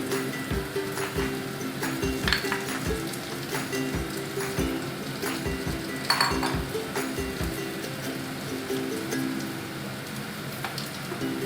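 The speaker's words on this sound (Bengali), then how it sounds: "খুব ভালোভাবে আমি সবকটা মিশিয়ে নিচ্ছি ভর্তার সাথে" Eggplant bharta stirred together with fried egg in a bowl, a steady run of soft clinks and wet scraping taps from a utensil against the bowl, close up and continuous with no talking.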